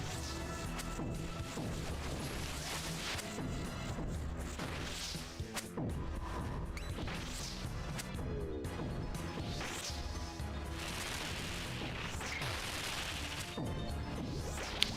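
Snap sound effects in the video game Starforge, a dense run of crashing, whacking impacts and swishes layered over busy game music, loud and continuous with no talking.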